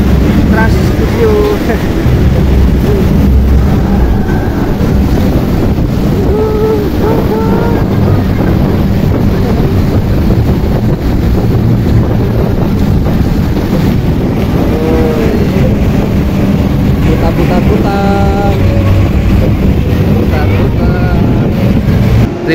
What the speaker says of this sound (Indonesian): Woi, kita naik kapal, ala-ala naik kapal jet boat ya